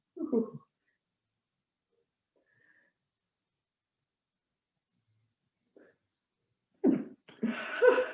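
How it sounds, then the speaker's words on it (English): A short breathy sound, then a long silence before a single sharp sneeze bursts out near the end, close and fairly loud. "I can feel a sneeze coming."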